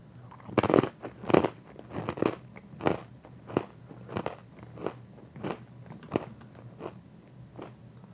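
Crisp bites and chews of a grain-free pretzel, a series of about a dozen close, loud crunches spaced roughly evenly apart over quiet background, with no talking.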